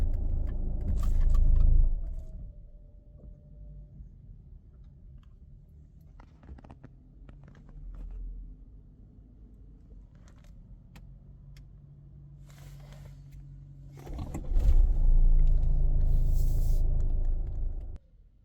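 An Opel Insignia B engine with start-stop: idle rumble at the start cuts out into a long quiet stretch with faint clicks, then the engine restarts and runs again near the end.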